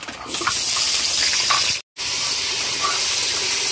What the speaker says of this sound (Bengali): তেল গরম হয়ে গেছে, আমি ধুয়ে রাখা আলুগুলো দিয়ে দিচ্ছি।